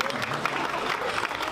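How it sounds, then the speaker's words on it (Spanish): A burst of loud, dense applause from a crowd at a baby shower, steady throughout with faint cheering mixed in. "un fuerte aplauso a Liván, por favor."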